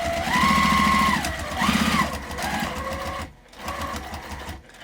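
A sewing machine stitches a jellyroll tote bag, its rapid mechanical whirring running in several bursts with brief stops between, close and steady, including short back-stitch passes.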